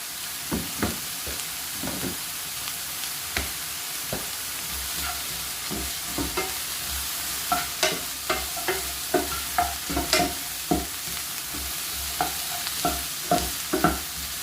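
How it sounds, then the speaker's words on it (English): Chopped vegetables sweat in a soup pot with dried thyme, a soft continuous sizzle underneath repeated close scrapes and clacks of a spoon stirring against the pot at an uneven rhythm. "What I'm doing, I'm just sweating off the veg a bit."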